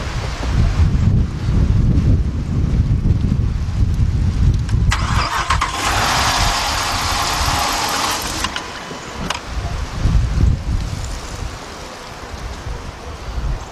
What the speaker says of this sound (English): when I go to crank it, we're gonna be watching that gauge.